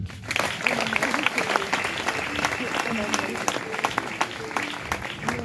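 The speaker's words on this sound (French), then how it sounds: "On applaudit encore le frère." Steady applause from a crowd fills the room, dense clapping continuing throughout with a few voices mixed in.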